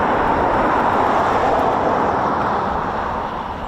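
Spitfire BT308 on its maiden flight at an Armistice airshow, a steady, loud broadband engine and airframe roar that holds throughout and eases slightly toward the end.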